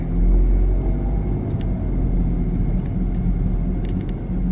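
A car drives down Jasper Street in Kensington, Philadelphia, giving a steady low rumble of engine and road noise from inside the cabin with a few faint clicks and no talking.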